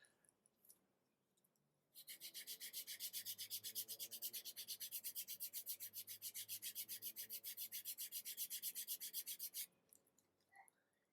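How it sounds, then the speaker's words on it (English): Edges of a leather cardholder being sanded, a fast rhythmic rasping of even back-and-forth strokes that runs steadily for about eight seconds, close and alone, with no talking. "So the middle one, it's a bit lower than the one on top and bottom. Okay, so you try to sand it down"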